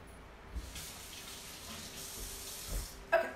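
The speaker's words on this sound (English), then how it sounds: "because I thawed this, it's got some moisture in it, so I'm just gonna pour that off" Liquid from thawed chicken poured off into a sink in a home kitchen, a steady soft trickle running for a few seconds with light clinks near the end, no talking.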